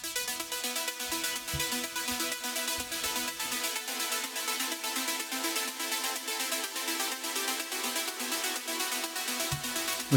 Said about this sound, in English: Then you get a secondary arp which sounds like this.